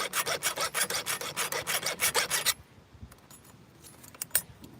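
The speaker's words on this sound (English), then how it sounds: "you just stop filing once you reach the edge of the tool there" A file rasps back and forth across a chainsaw chain's cutters in a quick, even run of about a dozen strokes, then stops, leaving a few light metallic clinks and handling sounds.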